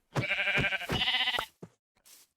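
Several loud, harmonic Minecraft sheep bleats in quick succession, close by, followed by a shorter bleat and a faint breathy tail.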